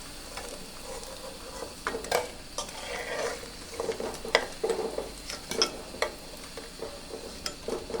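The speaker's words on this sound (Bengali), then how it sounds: "সবগুলো বড়া আমি ভেজে নিয়েছি" Shapla water lily flower fritters frying in oil, a continuous sizzle broken by repeated sharp utensil clicks and scrapes against the pan as the pieces are turned and lifted out.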